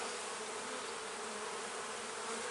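Honey bees buzzing on a honey frame during a hive inspection, a dense continuous hum held close and steady throughout.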